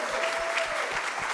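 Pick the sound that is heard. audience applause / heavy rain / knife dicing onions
audience applause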